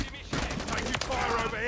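Bursts of gunfire from MW3 Zombies, the Modern Warfare III zombies game mode, crackle in rapid rounds across a short stretch, loud and close, mixed with other game noise.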